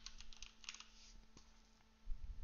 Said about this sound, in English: I'll just type in software